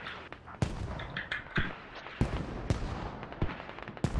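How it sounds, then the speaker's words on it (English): A 155mm artillery ranging shot in a 100-player military shooter game arrives among scattered distant gunfire: sharp cracks and thumps at irregular intervals, moderately loud against a constant battlefield rumble. "you see the first ranging shot from the 155mm command artillery"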